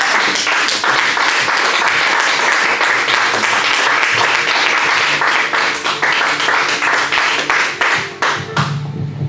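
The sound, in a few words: church congregation applauding for the Lord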